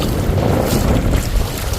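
Strong wind of 30 to 40 knots blasts across a beach among mangroves in Aruba. It is a loud, continuous roar battering the microphone throughout, with no voices.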